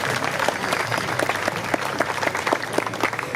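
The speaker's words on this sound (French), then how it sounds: "vous pouvez vous applaudir." A festival audience applauds steadily throughout, dense clapping filling the whole stretch at a moderate, even level with no voices over it.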